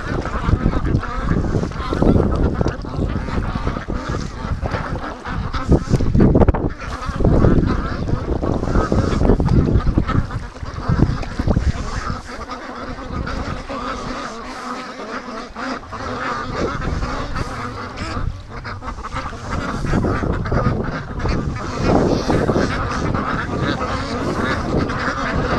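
Ducks and geese honk and quack on a murky farm pond, a busy, loud, continuous chorus of calls with splashing and movement close by.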